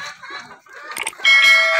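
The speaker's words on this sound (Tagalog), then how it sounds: "At ito ang aking BPR na barako." A BPR (Black Plymouth Rock) rooster on a backyard poultry farm clucks in several short bursts, close and fairly loud, building into a louder, sustained call near the end with other fowl sounds.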